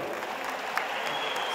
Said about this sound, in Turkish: Kocaman bir alkış alalım.